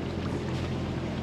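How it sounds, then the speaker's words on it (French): A sailboat's engine runs while motoring at sea off northern Sicily, a steady low drone with wind and water rushing over it, and no voices. "Ça fait 5 minutes que j'ai remis le moteur."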